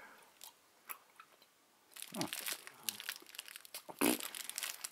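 A Santa-shaped Christmas treat bitten and chewed close up, with soft crinkling and a few sharp crunchy bites after a quiet start.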